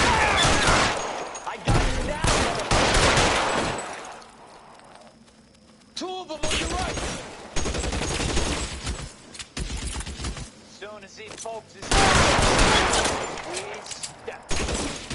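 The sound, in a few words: gunfire in a shootout in video game LA Noire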